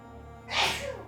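A single short sneeze, sharp and breathy, bursting out and fading within a second against a quiet, faint hum.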